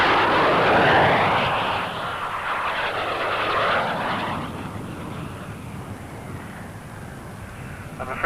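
RAF display team aircraft break formation and come in to land, a loud engine roar that sweeps past close and then fades into a duller, more distant rumble with some wind buffeting.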